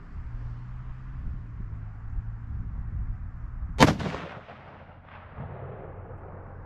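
A single sharp, loud 6.5 rifle gunshot at an outdoor target range, crisp crack with a short rolling echo fading over about a second, a fainter report following, set against a low steady background hum.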